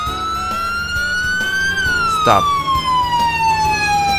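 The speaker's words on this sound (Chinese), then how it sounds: "两台警车来了，两台警车来了" Police car siren in Roblox Ultimate Driving, a loud, close wailing tone sweeping up and down steadily, with engine rumble beneath and someone talking over it.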